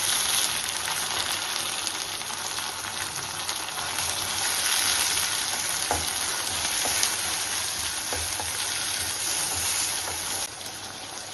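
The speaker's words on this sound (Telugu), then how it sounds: "ఒక 2 పచ్చిమిర్చి సన్నగా కట్ చేసుకొని కొంచెం ఫ్రై చేసుకుందాం" Green chillies and tomato frying in a pan, a steady dense sizzle running throughout with faint crackles, close and even in level.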